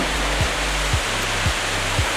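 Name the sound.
Niagara River rapids below the falls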